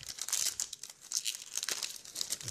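Thin Pokémon booster pack wrapper crinkles and rustles in quick, irregular bursts, close by and fairly quiet, with no one speaking.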